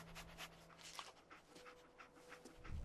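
A dog pants in a post-apocalyptic wasteland video game, quick rhythmic breaths running steadily through the short stretch at moderate loudness, with a low thump near the end.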